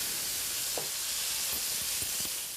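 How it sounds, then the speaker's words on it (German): A fillet sears in a frying pan, giving a steady loud sizzle with a few faint clicks and stirring touches. "Für das Filet noch ein bisschen Farbe bekommen, werden sie noch kurz anbraten."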